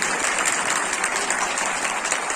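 Audience at a community gathering in New Delhi claps, a dense, continuous burst of many hands that stays steady and fairly loud with no speech.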